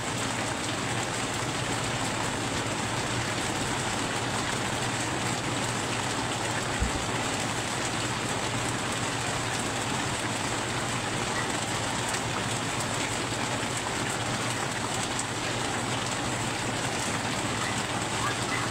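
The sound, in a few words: heavy rain falling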